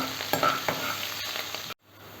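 Green chilies cooking in a pan over a very low flame give a soft, steady sizzle with a few stirring scrapes, then the sound cuts off abruptly near the end.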